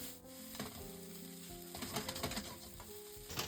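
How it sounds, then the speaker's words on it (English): Soy sauce sizzles against bacon in a hot pan while fried rice (chahan) cooks, a steady close crackle with a few scraping stirs and clinks layered over it. "put the soy sauce to the bacon space"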